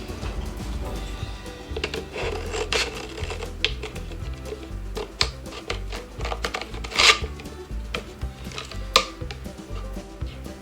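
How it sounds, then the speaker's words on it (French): Scissors cutting around a paper pattern for a flower pot craft, with irregular snips and rustling paper close up, fairly busy and uneven throughout. "je vais donc couper tout autour"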